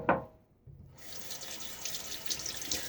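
A bathroom sink tap runs steadily while water is splashed onto a face before shaving, starting after a brief splash and a short pause and continuing close and moderately loud.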